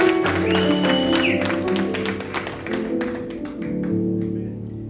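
Audience clapping at a Kinyarwanda-language church worship concert, steady applause sustained throughout over lingering music tones, fairly loud and continuous.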